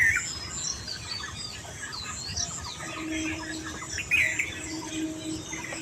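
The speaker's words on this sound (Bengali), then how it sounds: "শুধু পাখির কিচিরমিচি আর ব্যাঙ।" Birds chirp and cluck in steady rain, a rooster-like call and scattered tweets rising over the constant hiss of falling water, with no one speaking.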